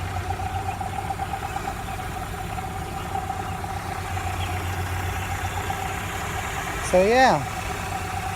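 A truck engine idles steadily with a low, even rumble while the worn motor mounts let the motor shake; someone talks briefly near the end.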